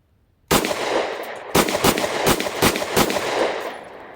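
A Smith and Wesson M&P Shield EZ 9mm pistol fires a quick string of sharp, loud shots at an outdoor range, one crack followed by a rapid burst of several more, close and echoing, with no talking.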